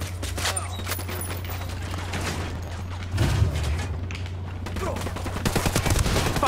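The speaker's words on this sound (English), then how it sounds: "Okay, open fire." Dense bursts of automatic rifle fire in Ghost Recon Wildlands co-op on PC, rapid and loud, with overlapping shots from several guns and a heavier thump midway.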